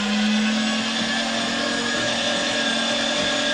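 Electric meat grinder pushing ground meat into sausage casing, a steady loud motor whine with a constant hum and gritty churning, continuous and close with no talk.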